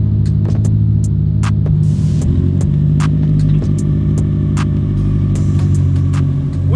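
A 2005 Subaru STI idles loudly at the exhaust, a deep steady rumble with a low throbbing hum, close and continuous, with faint clicks scattered over it.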